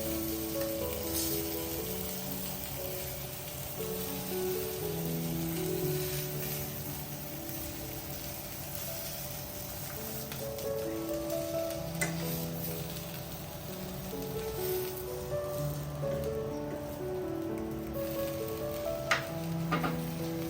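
Bangda mackerel fish frying in oil in a pan over a low flame for a Goan fry recipe, a steady soft sizzle that runs continuously, with faint background music behind it.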